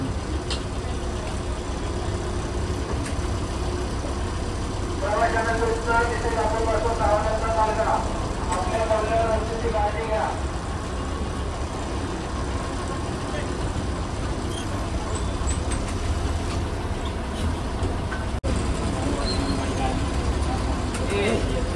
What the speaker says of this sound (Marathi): तर मित्रांनो 10 मिनिटाच्या ब्रेकने गाडी निघाली आहे पनवेल ST डेपोमधून.